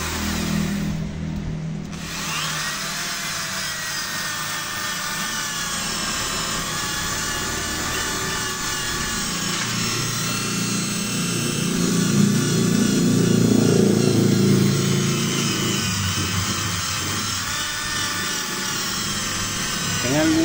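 An electric drill spins a motorcycle engine valve against its seat during valve lapping, giving a continuous close whir with a gritty grinding texture that swells in the middle. A voice is heard briefly at the start.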